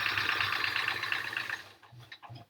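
A home sewing machine stitches rows of a Triangle Tango quilt in a steady, fast whirring run for about a second and a half, then stops, leaving a few soft handling clicks and light thumps.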